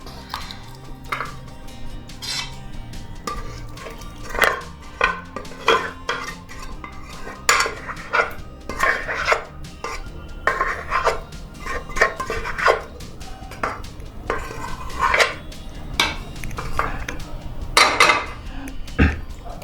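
A pan of hariyali pav bhaji has boiled vegetables stirred into it, with a spoon scraping and clinking against the metal in steady, uneven strokes. The sound is close and fairly loud, and no one talks.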